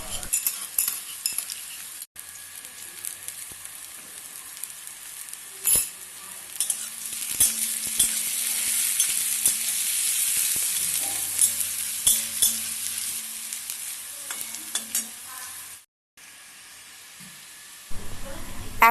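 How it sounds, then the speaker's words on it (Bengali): Crushed garlic sizzles and fries steadily in a pan while a spoon stirs it, with scraping clinks over a continuous hiss that stays close and fairly loud, broken by a brief dropout near the end. "হালকা করে একটু ভেজে নিচ্ছি। একটু থেতো করা রসুন দিলাম।"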